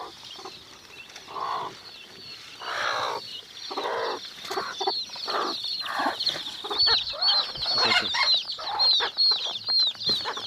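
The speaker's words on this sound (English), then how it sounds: "These are day-old chicks. This is their first outing." Day-old baby chicks on their first outing peep in a dense stream of high, rapid chirps, close and lively, with scattered rustling and soft bumps throughout.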